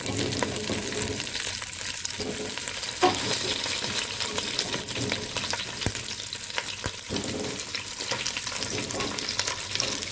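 Meat, cow trotters, searing in a hot pan: a loud, dense crackling sizzle with stirring scrapes and small pops, close and continuous throughout.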